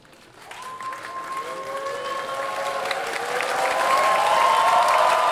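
Small live audience at a Polish improv comedy show applauding: clapping swells from quiet to a fuller, steady patter and holds through the end.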